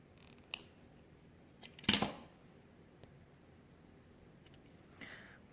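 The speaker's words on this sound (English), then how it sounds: "take a pair of cutters and cut that off" A pair of wire cutters snips off the excess tail of beading string on a children's grab bag necklace, giving one sharp, close click in a quiet room, with a few faint taps before and after.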